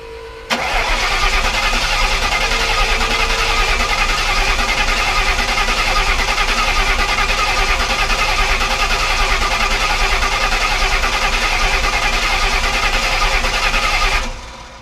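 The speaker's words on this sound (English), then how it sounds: "Car is cranking, but no spark." A 2004 Terminator Cobra with a new turbo kit cranks without starting, a loud, continuous churning drone that runs close and steady for around fourteen seconds, then cuts off, with no talking.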